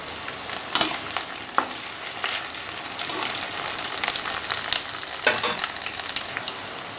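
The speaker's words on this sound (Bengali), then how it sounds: "কড়াইতে আমি মাছটা দিয়ে দিয়েছি, দিয়ে আমি এবার ভালোভাবে ভেজে মাছটা তুলব।" Live fish frying in mustard oil in a wok crackles in a constant close sizzle, broken by a few sharp scrapes and clatters of stirring; no voices.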